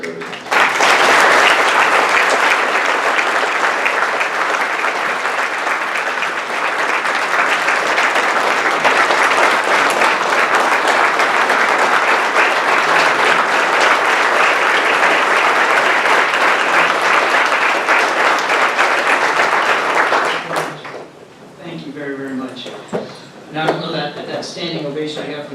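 A press corps gives a standing ovation, sustained dense applause lasting about twenty seconds before fading out, followed by a few seconds of speech.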